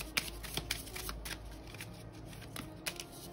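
A deck of tarot-style cards being shuffled by hand for a reading, soft close riffling and flicking in quick bursts, quiet and alone.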